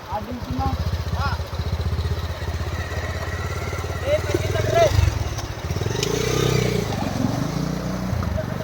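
A motorcycle crosses a stream in a tribal area near Vizag. Its engine putters steadily and revs, with a throaty mid-pitched drone, while people talk nearby.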